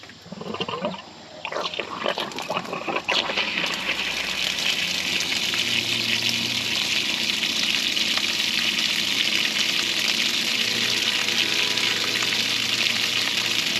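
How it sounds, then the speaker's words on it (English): A water pump on a homemade camp trailer starts up with a few splashes, then water rushes steadily in a continuous, loud broadband gush that stays even to the end. "So let's turn on the pump."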